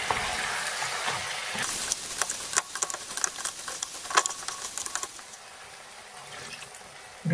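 Lamb chops masala sizzles in a pan with salt, cumin, tandoori powder and whole red chilies, stirred with scraping and clattering, a loud close frying hiss throughout with no voices.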